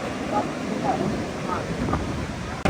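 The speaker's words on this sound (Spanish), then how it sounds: "Va a ser muy chévere dormir con el sonido de las olas." Ocean waves wash onto the beach at Playa Puy Puy in Sucre, Venezuela, a steady close rushing roar mixed with wind buffeting the microphone.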